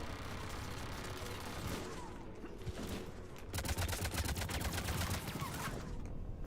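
Turret gunfire in the video game Mass Effect 3 rattles in rapid bursts of shots, growing denser and louder midway, with other game sounds underneath.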